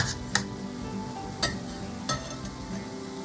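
Steaks sizzle loudly in a hot frying pan as they go back in with the sauce, a steady close crackle broken by a few soft knocks of pan and utensil.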